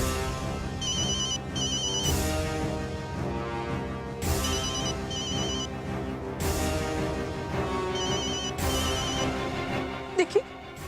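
A phone ringtone plays in repeated bursts with a melodic electronic tune, fairly loud and close, with a short knock near the end.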